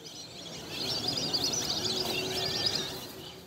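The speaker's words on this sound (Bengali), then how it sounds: "সবুজে ঘেরা নোয়াখালী বিজ্ঞান ও প্রযুক্তি বিশ্ববিদ্যালয়ে এখন অতিথি পাখির কলকাকলি আর কিচিরমিচির শব্দে" Migratory birds flock on a green university campus in Noakhali, a busy layered chatter of many chirps and calls blending into a continuous twittering wash at moderate distance, without voices.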